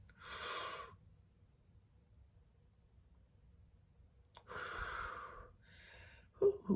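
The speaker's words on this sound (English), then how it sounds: "So let's breathe in and breathe out." Two deep, slow breaths drawn in and pushed out near the microphone, each a soft airy rush separated by quiet, with a brief click and snort at the end.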